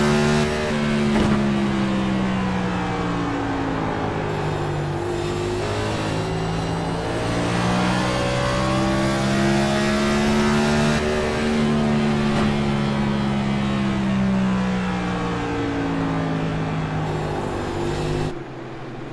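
A race car engine held in fourth gear on a sim-racing run at Richmond, droning loud and steady for the whole stretch with slow pitch swells through the corners before cutting off at the end.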